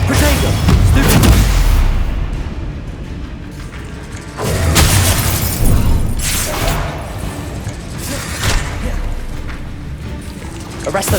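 Booming spell explosions from the Bombarda curse in the Hogwarts Legacy video game, loud low blasts recurring every few seconds amid combat noise and voiced spell shouts.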